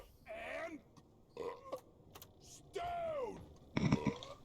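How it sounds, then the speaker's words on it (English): A dwarf character in the Deep Rock Galactic video game lets out several drawn-out, croaky burps with short gaps between them. The burps come one after another and are fairly loud, with no talk over them. "Were you burping while saluting?"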